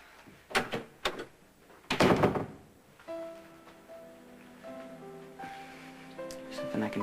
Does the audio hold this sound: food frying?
no